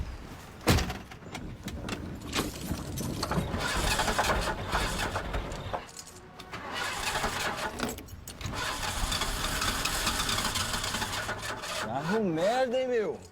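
Ford Maverick engine cranking repeatedly without catching, a long rough churning run broken by brief pauses, with door clunks and background noise, ending in a rising and falling whine.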